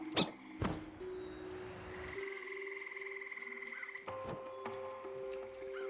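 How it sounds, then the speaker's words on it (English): Tree frogs croak in the video game Away, with a few sharp close calls and then sustained trilling tones layered against a quiet ambient background. "Some tree frogs."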